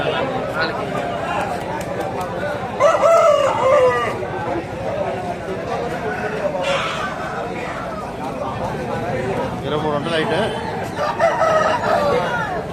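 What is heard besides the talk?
fighting roosters crowing at poultry market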